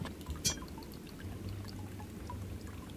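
Water pours briefly from a vessel in the Shadowgate adventure game, a soft splash and trickle at low level with a short bright clink near the start.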